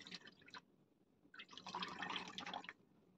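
Coconut milk drips and trickles faintly from grated coconut being squeezed through a fine cloth, two short bursts of liquid splashing with a pause between them.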